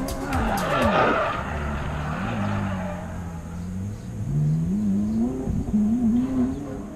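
A race car on new tires at a private test session, the engine revving and changing pitch as it accelerates and brakes, with tire squeal and a rising whine, close and loud throughout.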